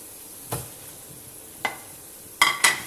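Coarsely ground mutton mince, over half a kilo, cooking in a karahi: a low background sizzle punctuated by a few sharp spoon-against-pan scrapes and clinks as it is stirred, the last two close together.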